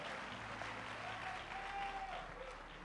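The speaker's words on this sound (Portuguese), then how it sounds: "aplaudindo a Jesus, porque Ele é bom" A church congregation applauds together, a steady, soft wash of clapping that holds evenly from start to finish, with a faint whistling tone drifting through the middle.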